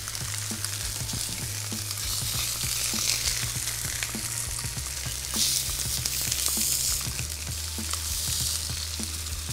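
Potatoes fry in a pan with a steady, dense sizzle and crackle throughout, occasionally stirred, close and continuous with no voices.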